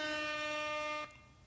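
A brief blaring air horn sound effect rings out with a steady, harmonically rich tone for about a second before cutting off abruptly, leaving faint background hiss.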